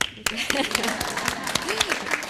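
Audience at a school academic awards ceremony applauding an award winner, a burst of many hands clapping that swells and continues, with a voice speaking over it.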